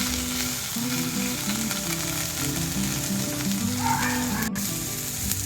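Onion and green chilies frying in a pan, a steady continuous sizzle with faint scraping of stirring underneath, close and unbroken throughout.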